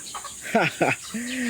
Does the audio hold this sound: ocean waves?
no